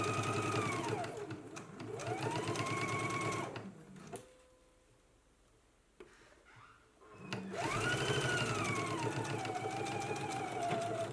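A sewing machine stitches a 5/8 inch seam on a jacket, running in two long, loud bursts with rising and falling motor whine, separated by a quieter pause of a few seconds.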